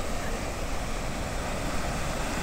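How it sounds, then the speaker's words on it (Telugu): Floodwater roars through the gates of the Somasila dam, a dense, continuous rushing wash with no pauses, loud and steady throughout. "గేట్ ఏ లెవెల్ లో వస్తున్నాయి నీళ్ళు ఒకసారి గమనించండి మీరు"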